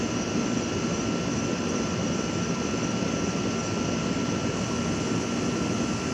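A jet aircraft passes overhead, producing a continuous, even roar that holds steady throughout, with no voices.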